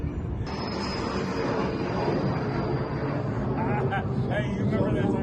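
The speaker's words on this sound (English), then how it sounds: "Enjoy, if you're a plane nerd" Airliners fly close by near an airport, a loud, steady jet roar with a thin high whine running under it for several seconds, and faint voices mixed in.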